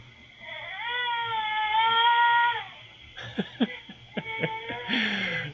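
A baby fusses and whimpers nearby in a long wavering cry, then short broken sobbing sounds follow, over a faint low background hum.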